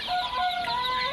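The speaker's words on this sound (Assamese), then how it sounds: "এইবিলাক হাঁহৰ পোৱালি চাওক, অৰিজিনেল একদম লোকেল পাতি হাঁহৰ পোৱালি।" Local Pati duck ducklings peeping, several thin high-pitched calls overlapping in a quick continuous chorus, close and fairly loud.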